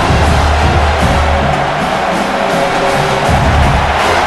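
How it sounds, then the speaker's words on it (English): Loud, dense stadium crowd roar from the NCAA College Football 26 video game, a sustained wall of cheering and yelling near the goal line during an Oklahoma versus South Carolina game. "The crowd really making some noise now, trying to help out this defense."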